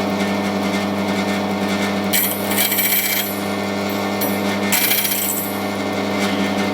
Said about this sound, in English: And then we can start to cut our key.